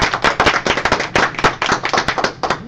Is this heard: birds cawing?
no